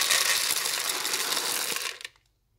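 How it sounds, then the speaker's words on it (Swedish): Frozen blueberries rattle and clatter as they are dropped into a food processor, a dense close burst of hard tapping that runs for about two seconds and then stops abruptly into silence. "vad det låter när jag lägger ner en blåbär i matredaren som är frysta"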